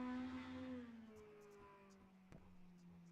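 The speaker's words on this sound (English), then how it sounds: "I hear Johnny there just tickling off the rev limiter" Mini Stock race car at Lernerville Speedway during a qualifying run, engine bouncing off the rev limiter, its note dropping and fading as the car pulls away, with a sharp click partway through.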